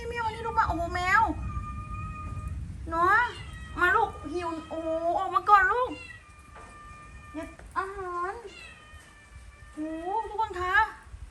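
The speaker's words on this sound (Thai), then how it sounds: "ได้ยินเสียงแมวค่ะ" A cat in an abandoned house meows over and over, loud and near, in a run of drawn-out cries with short pauses between them, some rising in pitch, over a low rumble of background noise.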